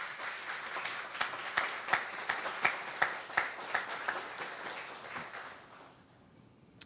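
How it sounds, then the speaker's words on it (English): An audience claps for Virgin Islander honorees at a plaque and road naming ceremony, with distinct individual claps standing out in a fairly even rhythm before the applause fades out. "Please join me in a round of applause for these Virgin Islanders."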